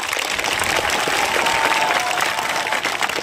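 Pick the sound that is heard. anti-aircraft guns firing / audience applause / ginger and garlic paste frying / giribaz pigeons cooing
audience applause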